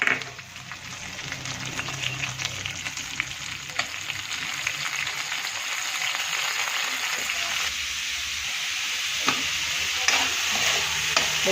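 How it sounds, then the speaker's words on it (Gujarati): Onions fry in hot oil with cumin, green chilies and curry leaves in a kadai, giving a continuous close sizzle with occasional stirring clicks at moderate loudness. "હવે મસ્ત ડુંગળી શેકાઈ જાય પછી ટામેટાને બધો મસાલો નાખીએ। તો ડુંગળીને મસ્ત શેકાવા દઈએ।"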